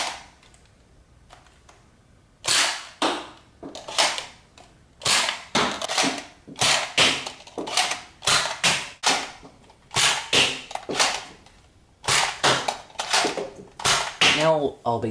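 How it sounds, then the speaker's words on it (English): A NERF ZombieStrike Crossfire Bow toy blaster fires a long run of sharp, snappy pops in quick uneven bursts, close and loud, with short pauses between groups of shots. "Now here is a short firing test."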